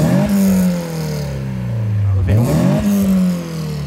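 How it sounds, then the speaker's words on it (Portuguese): A Chevrolet Corsa with a naturally aspirated 1.6 16v engine revs hard up close, the pitch sweeping up and down across a few bursts as the throttle is blipped, loud and continuous. "Dá uma acelerada de verdade."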